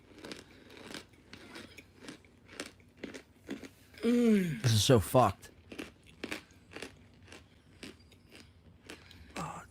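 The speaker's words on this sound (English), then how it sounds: "it sounds like she's chewing like shards of glass." Someone eats crunchy Yellow Box cereal, with a series of sharp crunching bites and chewing at an even rhythm, close to the mic, while a person talks over it briefly mid-way.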